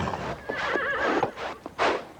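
A horse neighs and whinnies loudly in a rising, wavering call, with nearby snorts and shuffling hoof sounds around it, close and alone with no talk.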